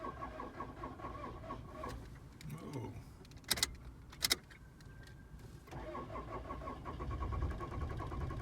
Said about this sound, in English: Kind of a weird cadence with the engine there.